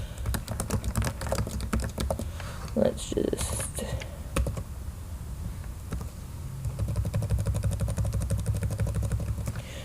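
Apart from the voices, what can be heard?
typing on a computer keyboard in Scrivener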